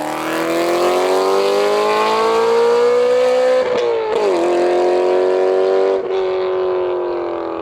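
A BMW E92 M3 accelerates hard in second gear, its engine note rising smoothly and loudly in one long pull, with brief dips near the end as the throttle lifts and returns.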